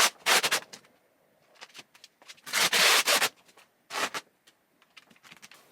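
A squeegee drags over lubricated vinyl wrap on an R32 Nissan Skyline, giving close, raspy rubbing strokes in uneven bursts with short pauses between them.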